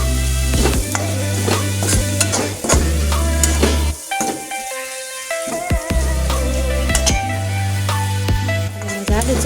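Spicy noodles sizzle loudly in a hot pan as they are stirred, with a continuous close frying crackle and repeated scrapes and clinks of the utensil against the pan.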